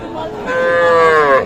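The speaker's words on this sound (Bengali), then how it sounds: "ছোট ছোট বাছুর" A single drawn-out moo from a young calf at a cattle market, loud and close, rising slightly and holding for over a second with no other sounds.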